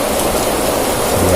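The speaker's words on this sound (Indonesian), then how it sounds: "ini cuacanya seperti ini, hujan ya" Steady rain pours loud and close in a dense, even hiss, continuous throughout, during a rainy outing for eel fishing, with no talk heard.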